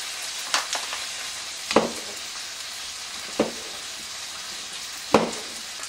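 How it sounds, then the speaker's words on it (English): Bacon fries in a pan for a full English breakfast, a constant soft sizzle broken by a handful of sharp, spaced-out clinks and scrapes of utensils. "While the bacon is cooking, you can prepare the tomato."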